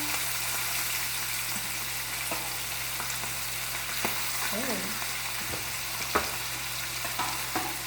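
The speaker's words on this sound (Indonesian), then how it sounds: "Sebenarnya aku tuh takut goreng ikan ya karena meletus." Marinated fish frying in a little oil, a steady close crackling sizzle with scattered small pops and spatters throughout, continuous and even in loudness.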